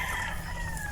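Chickens in a farmyard flock give off a steady mix of clucking and crowing, loud and close, with no pauses and no talk.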